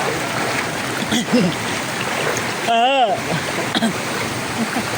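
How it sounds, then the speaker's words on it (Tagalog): Strong floodwater current during a typhoon, a steady broadband rushing of flowing water throughout, with voices and brief talk over it. "Ito, ang lakas na ng baha dito. Ang lakas na ng agos."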